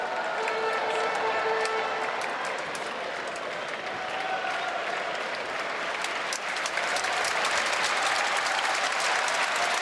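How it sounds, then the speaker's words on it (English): Stadium spectators at a table tennis quarterfinal applaud during a Mexican wave, a broad, sustained clapping roar from a large crowd, fairly distant, swelling slightly toward the end. "And the spectators applauding themselves."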